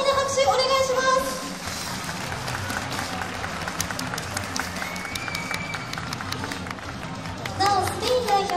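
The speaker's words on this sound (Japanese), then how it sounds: "大きな拍手お願いします" Audience applause for a solo cosplayer on stage at a cosplay summit during a Tanabata festival, a dense crowd clapping throughout with a public-address voice and music over it near the start and end.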